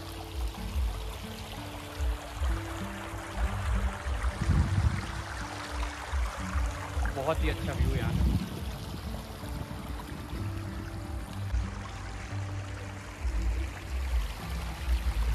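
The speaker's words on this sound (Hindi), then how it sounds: "तो ये मेरे पीछे देख सकते हो आप पानी चलता हुआ," Stream water flows steadily over rocks outdoors, a continuous close rushing wash that holds at an even level throughout, with someone speaking briefly over it.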